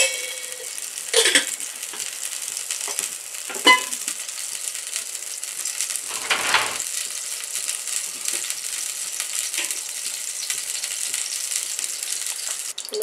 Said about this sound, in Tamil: இப்போ வந்து குக்கரில் வந்து எண்ணெய் கொடுக்குறேன் நான் வந்து டைரெக்டாக இதிலே போட்டு தாளிச்சிடுறேன்